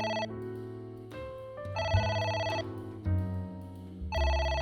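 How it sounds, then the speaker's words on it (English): A phone rings in the video game AI: The Somnium Files, a loud electronic ringtone of repeating melodic tones in steady bursts, heard alone with no talking. "Why are we ignoring the phone call, though?"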